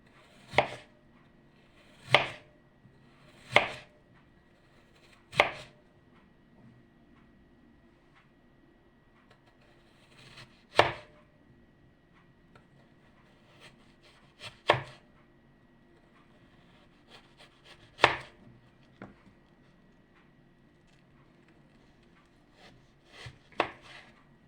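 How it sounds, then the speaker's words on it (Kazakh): A knife chops potatoes into thin strips on a board, making sharp, irregular knocks spaced a few seconds apart in a quiet room, with no talking. "Картошканы ұсақтап турап."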